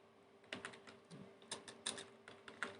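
Python code is typed on a computer keyboard in a few quick bursts of crisp, close keystrokes separated by short pauses, faint and alone.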